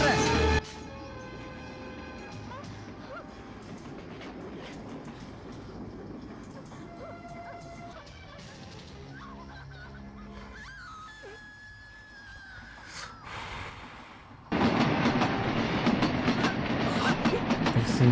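A train rumbles steadily and runs onto a bridge in a film scene, with a clattering rolling noise, horn-like tones and brief screams. It grows much louder and harsher near the end as it reaches the span.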